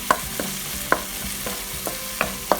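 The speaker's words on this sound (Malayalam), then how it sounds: "നമുക്ക് ജസ്റ്റ് ഇളക്കി കൊടുക്കാം." A spoon stirs a tomato masala for duck egg roast in a pan, making about six separate scraping taps spread unevenly over a low, steady sizzle.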